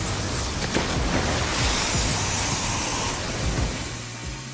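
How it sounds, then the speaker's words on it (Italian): A cartoon-style burst of cold water sprays in a steady, loud hiss for several seconds, easing off near the end, with no talk over it. "Prima un po' di piacevole acqua fredda."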